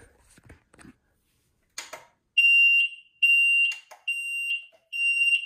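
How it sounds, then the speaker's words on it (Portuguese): A newly installed doorbell in a new house being tested gives a loud electronic tone, a steady high beep repeated four times in a regular rhythm, after a brief shuffle and a short rustle. "Ah, isso é a campainha."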